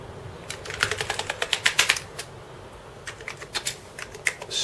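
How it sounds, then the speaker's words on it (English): Keys of a Commodore Amiga keyboard clatter as a finger is dragged along them, quick runs of rapid clicks, two bursts of light tapping close up with a short pause between them. "I'll just drag my finger along the keys like that"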